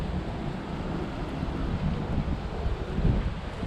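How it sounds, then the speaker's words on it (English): Wind rising ahead of a storm roars across the microphone in a steady low rumble with gusty swells, loud and close, with no voices. "Okay, the wind's picking up."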